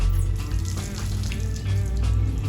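Water runs out of a cylinder on a seized 350 engine pulled from a junkyard, making a close, steady trickling and splashing for a couple of seconds, with no talking.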